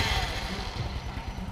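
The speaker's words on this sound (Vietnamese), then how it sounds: "giờ bấm nổ máy thử" A Honda Wave Thai motorcycle, upgraded from a 100 to a 110 engine, running loud and close with a steady low throbbing putter and no talking.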